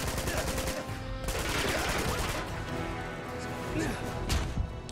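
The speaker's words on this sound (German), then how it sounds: "Chloe, schieß" Rapid automatic gunfire and crashing impacts from a firefight in the video game Uncharted 2, dense and sustained bursts throughout with a voice talking over it.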